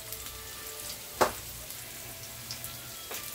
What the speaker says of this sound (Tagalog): Gisa lang ko natin na maayos para hindi ilaw ang ricado.